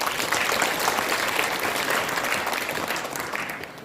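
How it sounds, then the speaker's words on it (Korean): Dense, sustained applause from an audience at a Korean lawmaker's legislative report meeting, loud and continuous, fading only slightly toward the end with no voices over it. "박수 한번 쳐주십시오."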